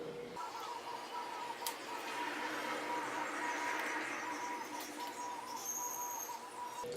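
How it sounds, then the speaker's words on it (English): Birds call outdoors beyond an open door in repeated hoots and chirps, fairly faint and distant, over a soft steady background hum. "Hopefully the birds aren't too loud for you guys."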